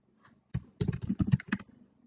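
Fast bursts of computer keyboard keystrokes, close and clear, cluster into a short flurry of typing after a brief quiet start.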